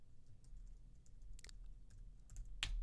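Quick bursts of keystrokes on a computer keyboard while a preset name is retyped, a few scattered clicks ending in a sharper tap, close up over a quiet background with no talking.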